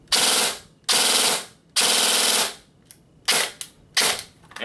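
Elite Force 4CRS airsoft rifle with a Retro Arms trigger running full auto on an 11.1V LiPo, loud close buzzing bursts of rapid fire, three long strings and then several shorter ones, with brief quiet gaps between.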